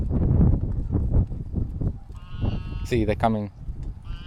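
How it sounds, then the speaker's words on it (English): Sheep and goats bleating on a South African goat farm, a couple of loud nearby bleats rising over steady conversation between people outdoors. "See, there's a sheep."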